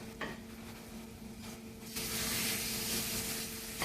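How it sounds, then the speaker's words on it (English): A salmon fillet sears in a hot pan, a steady close sizzle that swells louder and brighter partway through, with faint utensil scrapes and no talk. "Just let it sear slowly."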